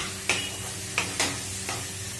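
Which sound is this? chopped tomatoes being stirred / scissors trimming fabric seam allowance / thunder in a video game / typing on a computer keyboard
chopped tomatoes being stirred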